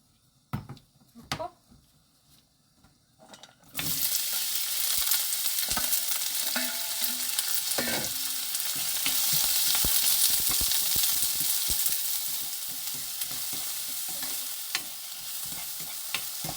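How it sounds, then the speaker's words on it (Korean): Onions stir-fried in a spoonful of cooking oil over medium heat, a few taps and clinks, then a loud steady sizzle bursting in and continuing with occasional scraping of the utensil, with no talking. "양파는 충분히 볶아서 어, 색이 변할 때까지 이렇게 볶아줍니다"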